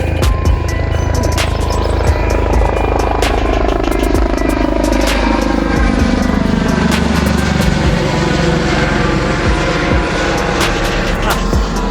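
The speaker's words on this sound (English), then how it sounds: "here comes a helicopter" Helicopter flying overhead during a road bike ride, a steady rotor drone mixed with wind and road rumble, loud and constant for the whole stretch with faint clicks from the bike.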